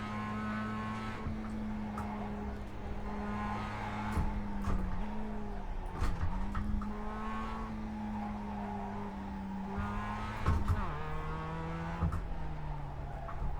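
Engine of a Mazda MX-5 race car in the iRacing simulator at Summit Point, droning steadily with rising revs, sharp gear shifts and brief tire squeals as the car brakes and accelerates.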